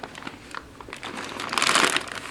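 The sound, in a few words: crinkling clear zip-top plastic bag of Swedish MRE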